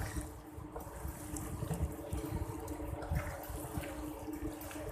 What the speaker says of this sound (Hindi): थोड़ा सा और पानी डाल दें, थोड़ा सा पतला हो जाएगा।